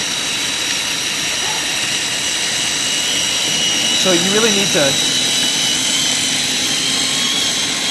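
A food processor grinds nuts into nut butter with a loud, steady whirring roar that fills the space, while people talk over it up close.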